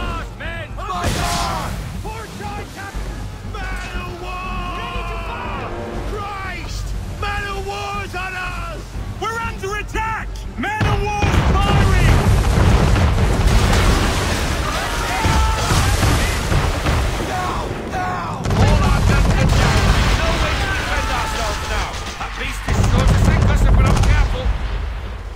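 Cannon and musket gunfire in a naval battle in the game Assassin's Creed III, loud and sustained with heavy booms swelling partway through, under shouted orders and crew voices.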